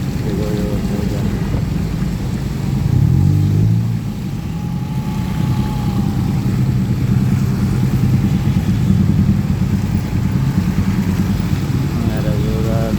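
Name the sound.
street traffic on Jalan Perintis, Makassar after rain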